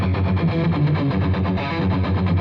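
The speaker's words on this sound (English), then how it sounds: "So our first guitar part is going to sound like this." An electric guitar in drop D tuning plays a part from a song with a heavily distorted, effects-laden tone. The low notes are thick and loud and sustain steadily across the phrase.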